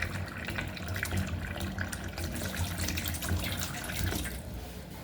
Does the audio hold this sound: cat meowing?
no